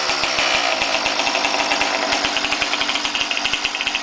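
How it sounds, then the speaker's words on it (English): A small motorized bicycle engine on a custom three-speed chopper runs close by with a rapid, even putter. The firing pulses grow sharper and slightly quicker toward the end. "That's how you kickstart it."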